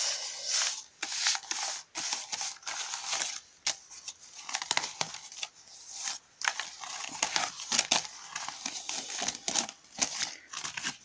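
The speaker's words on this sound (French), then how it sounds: "Donc je mélange bien mes cartes" Playing cards being shuffled by hand at close range, a steady run of crisp rustling riffles and soft slaps with short pauses between passes, with no talking.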